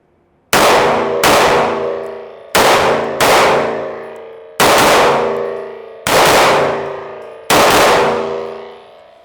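A Fusion Firearms XP PRO pistol, loaded from Glock magazines, fires seven loud shots at uneven intervals. Each crack rings out briefly, and no one speaks.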